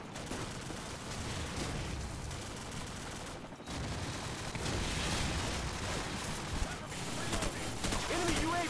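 Steady bursts of M4 carbine gunfire in a first-person shooter video game, dense and continuous across the clip with a brief gap partway through, loud and mixed with game sounds.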